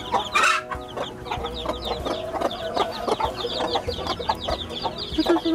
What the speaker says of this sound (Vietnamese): Hay một đàn gà con mới vừa nở được mấy ngày